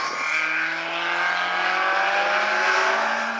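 A midget race car engine drones steadily at high revs as the No. 12 car takes the green flag at South Sound Speedway, a continuous loud roar with a rising pitch and no pauses.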